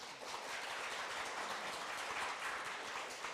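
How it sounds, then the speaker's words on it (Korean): An audience at a government policy forum in a hall claps in a dense, steady round of applause for a few seconds with no talking over it. "오늘 제 189회 세종로 국정포럼을 큰 박수로 시작을 하겠습니다"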